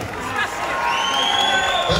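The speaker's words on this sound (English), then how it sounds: "Big round of applause for our two boxers here." Crowd at a boxing event cheering and whooping after a contest, a dense, loud wall of shouts and applause from an indoor audience.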